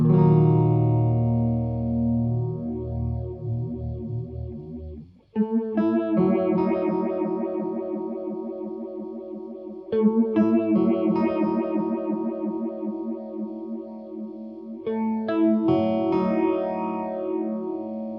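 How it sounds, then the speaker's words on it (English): Sustained guitar chords pass through a slow, sweeping phaser from a Pastfx Jet Phaser pedal, a Roland AP-7 clone, the tone swirling up and down in gentle cycles; each chord is struck anew and rings out. "It's got that beautiful, rich phaser sound."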